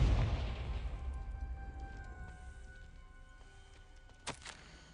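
Confringo spell explosions in Hogwarts Legacy, a loud blast at the start that decays into a long ringing tail of metallic tones, then a brief sharp crack near the end.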